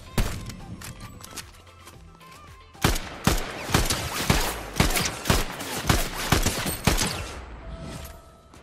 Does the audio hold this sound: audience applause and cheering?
no